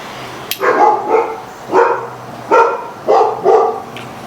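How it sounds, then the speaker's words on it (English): Several loud, close dog barks ring out in a steady series of about six sharp woofs spaced roughly half a second apart, with no talking between them. "say hello to the dogs, everybody."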